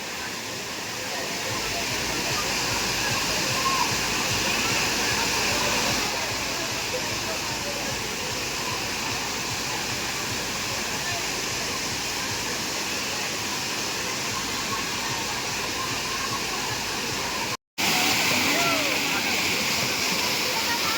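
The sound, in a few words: rushing water at a monsoon waterfall in Konkan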